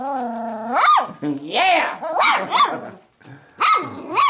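Four-week-old puppies bark, yelp and growl in a run of high, wavering calls with short gaps between them, close by, while a person briefly calls out over them.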